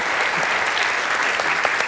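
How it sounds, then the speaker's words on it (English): A panel discussion audience breaks into applause, producing a thick, even roar of clapping from a sizable crowd that holds loud and steady for the whole short stretch. "Yes, clap Lisa."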